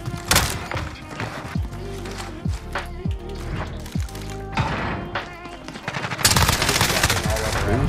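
Gunfire in the video game Modern Warfare, loud rapid bursts and single heavy blasts from a shotgun, closely spaced and ending in a dense volley.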